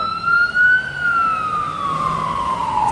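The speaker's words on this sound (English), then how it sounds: "It's a fire department ambulance." A fire department ambulance siren wails steadily in a passing sweep, fairly close and loud, its pitch drifting slowly downward as it moves away along a city street on the marathon route before the NYC Marathon.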